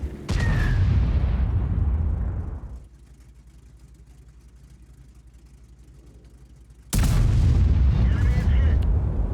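A tank's main gun fires in a video game, with a heavy booming blast and long rumbling tail opening the moment, a low droning lull after, then a second loud boom near the end.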